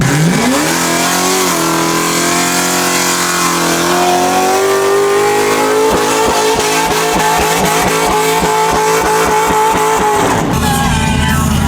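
A tuned Lotus in a car park roars as it revs hard and holds a burnout, the engine pitch climbing then sustained at high volume with tyre noise, before cutting off near the end; loud and close, no voices.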